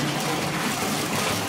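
Tap water runs steadily over a Lush bubble bar in a bath, a dense continuous rushing gush that stays loud and even throughout.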